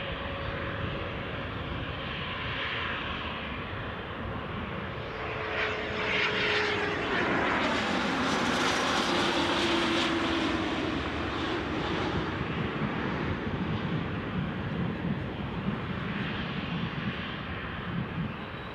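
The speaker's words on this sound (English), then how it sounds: "Looks like we've got a BizJet arrival then. QA Aviation Embraer Phenom 300." Embraer Phenom 300 business jet arriving at Newcastle airport, a steady broad engine roar that swells to a peak around the middle as it passes close, then eases off, with no voices.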